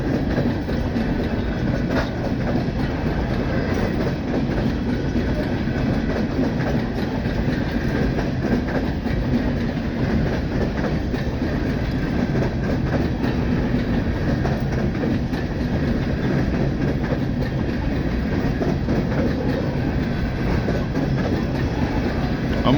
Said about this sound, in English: got a train going through here, headed to the mine.